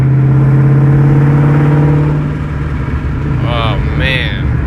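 A Terminator Cobra fitted with a Bassani/Magnaflow exhaust drones with a loud, deep engine note that swells and eases as it revs on the road. A voice speaks briefly over it near the end.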